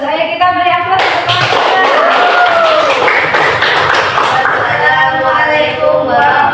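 A classroom of students applauds a group's project presentation, a dense burst of clapping that fills the room for several seconds, with voices speaking and calling out over the applause.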